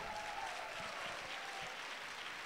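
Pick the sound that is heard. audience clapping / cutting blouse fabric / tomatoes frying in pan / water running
audience clapping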